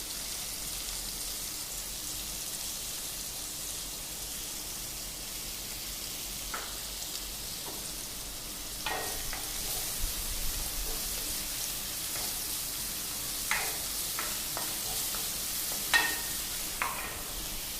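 Chopped onions and green chili sizzle in a pan with a pinch of salt for chicken liver soup, a steady soft hiss with occasional light crackles and spatula taps, no talk.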